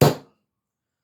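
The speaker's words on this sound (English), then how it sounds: "Take a centre punch onto that little mark" A hammer strikes a centre punch set on a metal bolt, making one sharp close impact that dies away within a fraction of a second and leaves silence after it.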